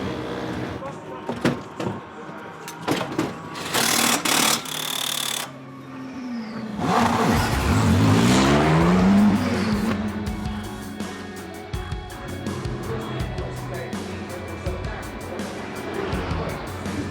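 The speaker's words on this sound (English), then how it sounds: "Into the pits comes the McLaren of Marcus Clutton to give up the on-the-road lead" McLaren race car pulling into the pits during an endurance race qualifier at Silverstone, its engine swelling loudly and rising in pitch, with a door-like clunk and mechanical clatter nearby and commentary talk over much of it.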